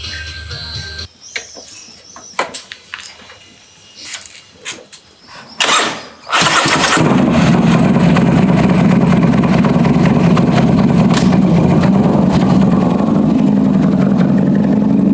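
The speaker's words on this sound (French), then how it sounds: "le moteur fait effectivement moins de bruit qu'hier, enfin moins de bruit étrange" After some clicks and clunks, a bagger motorcycle engine cranks, catches, and settles into a loud, steady running drone close by.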